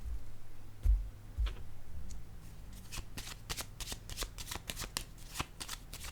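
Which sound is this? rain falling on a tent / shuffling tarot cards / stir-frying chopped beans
shuffling tarot cards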